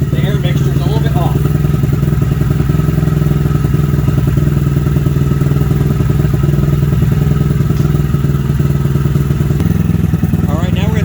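Honda Grom motorcycle engine idling unevenly up close, a loud chugging putter with irregular lumpy pulses and occasional clattery thumps.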